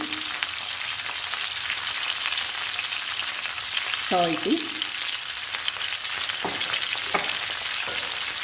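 Curry leaves and turmeric frying in hot oil, a steady close sizzle throughout with a brief louder crackle burst midway and a few stirring clinks near the end.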